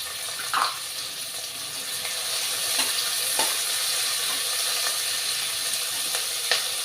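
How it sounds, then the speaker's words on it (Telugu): Onions and green chillies fry in hot oil with a loud, continuous sizzle close to the mic, broken by a few brief stirring knocks and pops, with no voices. "ఇవి బాగా వేగాలి ఉల్లిపాయలు బ్రౌన్ కలర్ వచ్చినంత వరకు వేయించుకోవాలి"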